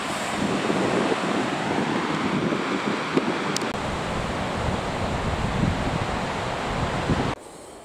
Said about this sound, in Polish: bardzo wieje